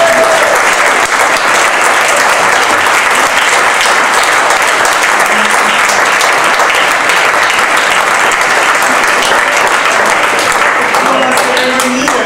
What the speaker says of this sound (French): Vous pouvez applaudir encore un petit peu.